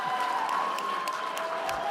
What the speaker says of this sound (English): hold the applause for 1 second